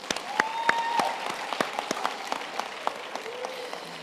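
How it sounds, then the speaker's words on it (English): Audience applause at a university graduation ceremony, a steady patter of many hands with sharper individual claps standing out and a faint tone drifting over it, holding at moderate level across the whole stretch. "I think we should give her a hand of applause"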